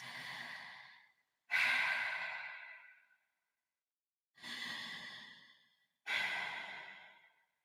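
Four slow, deep breaths, each a long airy exhale fading out, separated by silent gaps; close and soft, with no other sound around them.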